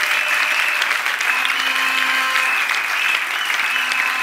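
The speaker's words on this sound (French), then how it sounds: "Acclamons le Seigneur pour cela." A church congregation applauding together during a sermon, a dense, steady wash of clapping that holds evenly loud from start to finish with no voices rising above it.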